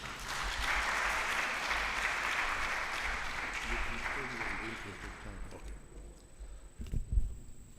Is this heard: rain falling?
no